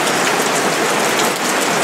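Steady, dense rainfall hisses continuously, loud and close, at Amboseli Park, Kenya, with no voices.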